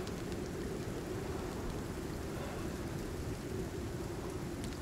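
An ice storm in the video game Icarus roars as a steady, dense wash of wind and driving precipitation, loud and unbroken from start to finish with no voices.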